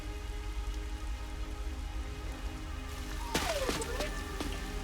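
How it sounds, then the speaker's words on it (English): Steady rain falls in the video game Master Detective Archives: Rain Code, a soft continuous hiss with a faint rising whoosh and a few clicks near the end. "It's raining."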